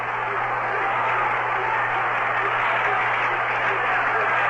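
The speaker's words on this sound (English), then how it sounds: "Crowd now starting that rhythmic staccato, hoping the Mets can get it working" A baseball crowd at a 1965 Mets game at the Giants keeps up rhythmic staccato clapping, a dense, steady wash of sound heard through an old radio broadcast with a constant hum underneath.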